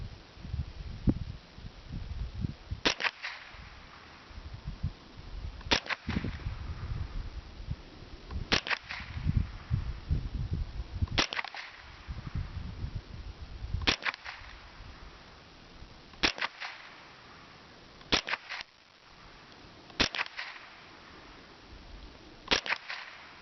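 A Ruger .22 survival rifle fires at a target outdoors: about eight sharp single shots spaced a few seconds apart. Each crack stands out against a low rustling background.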